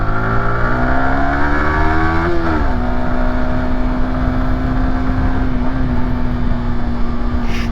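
A Yamaha YZF-R125 being ridden, its exhaust holding a loud, steady buzzing drone with a pitch that sweeps down as a gear changes, then settles into a constant tone under wind roar.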